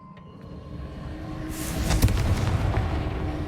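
In the Hogwarts Legacy video game, a fire spell bursts into an explosion, a booming blast rising over a low rumbling game background midway through and then rolling on as a sustained roar.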